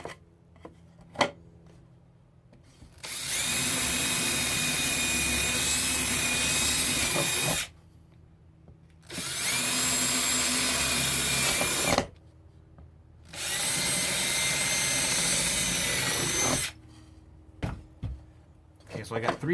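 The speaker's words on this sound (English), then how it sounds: "I get a big fat drill, right? And then I drill in the top and the bottom, and then just a couple here in the middle" Power drill boring holes through a guitar top to start F-holes, three long loud bursts of steady whining drilling separated by short pauses, with brief handling knocks before and after.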